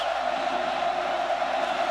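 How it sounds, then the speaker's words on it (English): A Cal football stadium crowd roaring during a Tennessee versus California game, a dense, loud and steady wall of cheering with no break. "This is the loudest Cal crowd I've ever heard"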